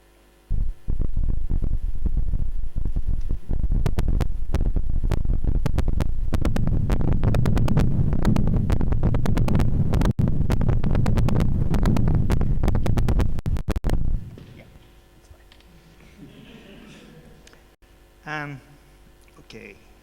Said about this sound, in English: skipping the needle to the edge of the arcs causes rich variation of the sonic emptiness